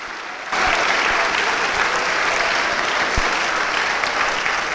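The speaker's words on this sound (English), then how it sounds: "please join me in one more round of applause for all of tonight's Pacific Athletic Hall of Fame inductees" Audience applause for Pacific University Athletic Hall of Fame inductees at an induction ceremony, a sustained, dense roar of clapping that starts abruptly after a brief quiet and holds steady, with a few louder individual claps standing out.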